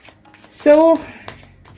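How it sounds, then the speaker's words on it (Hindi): A deck of cards is shuffled in one short riffle burst lasting under half a second, close and fairly loud, with a person speaking around it. "शफलिंग मैंने यहाँ पर स्टार्ट कर दी है।"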